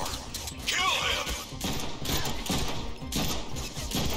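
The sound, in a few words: gunfire from a Deadpool video game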